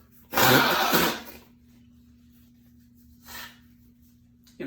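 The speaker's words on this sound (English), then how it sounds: "Excuse me. I need to sneeze." A sudden loud sneeze bursts out, followed a few seconds later by a shorter, softer one, over a low steady hum.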